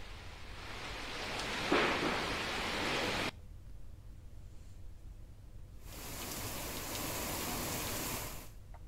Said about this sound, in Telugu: వర్షం కురుస్తోంది